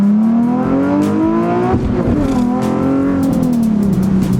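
A manual-transmission car engine revs hard and loud, pitch climbing then dropping and rising again as a driver practices shifting from first into second gear, continuous and close throughout.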